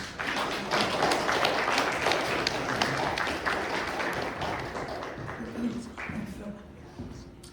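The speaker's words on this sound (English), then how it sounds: "Let's give an applause for Ron." Audience clapping welcomes a pianist onto the stage at a morning talk event, a dense steady patter that stays moderately loud and fades toward the end, with a few soft thumps and low murmuring underneath.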